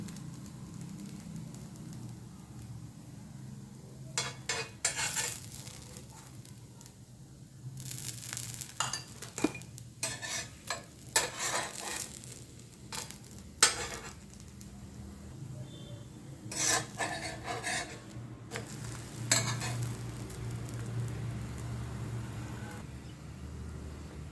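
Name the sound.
breakfast item roasting in ghee on a pan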